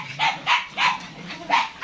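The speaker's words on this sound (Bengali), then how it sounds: "এটা বিশ্বের সব থেকে ছোট কুকুর এটাকে বলে পমারিয়ান ডগ" A small Pomeranian dog, about a year old, gives four quick, high yappy barks in an even rhythm, close and fairly loud.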